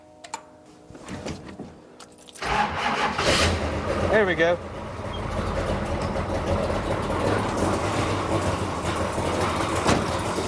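A race car engine cranks and catches after a couple of seconds, then settles into a steady, loud rumbling idle, with a brief spoken remark over it.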